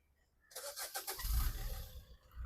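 A blue 2019 Volkswagen Jetta's engine cranks and catches after half a second of quiet, then runs with a steady mid-pitched hum and a low rumble swelling toward the end, close and fairly loud with no talk.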